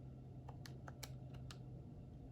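Quick taps on calculator keys as an expression is entered during an AP Calculus problem, about half a dozen soft, close clicks spaced irregularly over a steady low hum, with no voice.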